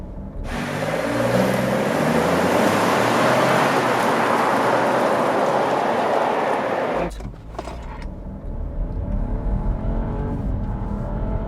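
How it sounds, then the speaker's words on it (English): A 2021 Chevrolet Trailblazer Activ engine is held at brake torque, its loud, steady roar holding for about seven seconds before cutting off sharply, then settling into a lower rumbling idle. "So we're just gonna brake torque it a little bit."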